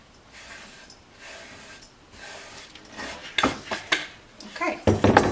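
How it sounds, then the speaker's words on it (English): A pecan mixture goes into a pan of butter, sugar and syrup on the stove, with soft rubbing at first, then several loud scraping clatters of utensil against pan. "we are going to add this to our butter and sugar and syrup mix"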